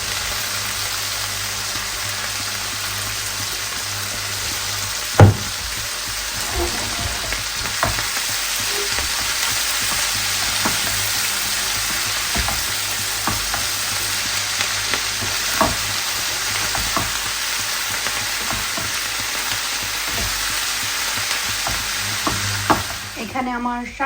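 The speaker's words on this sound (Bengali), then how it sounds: "এখানে আমার শাক ভাজি হয়ে গেছে।" Leafy greens (shak) fry steadily in a pan, a continuous broadband sizzle with scattered scraping stirs and utensil knocks throughout, close and fairly loud with no talking.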